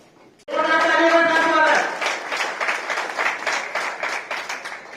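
Crowd applause at a Brahmin community gathering, starting abruptly with a loud burst as a voice calls out over it, then settling into steady clapping that gradually thins.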